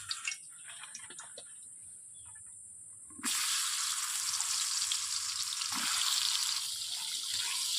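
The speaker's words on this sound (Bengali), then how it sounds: "কড়াইয়ের কষতে তেল গরম হয়ে গেছে। আমি পটলগুলোকে ছেড়ে দেবো।" Pointed gourd (potol) dropped into hot oil in a wok, set off by a sudden loud, steady sizzle that starts partway through and continues to the end after quieter ticking and light clatter.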